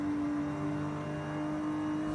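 A car engine in the racing video game Forza Horizon 5 holds a steady, loud droning tone at high speed, a continuous whir with no voices over it.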